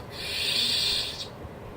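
A short airy electronic hiss of an Outer Rim Sabers RGBW lightsaber shutting down fades out after about a second, leaving faint room noise.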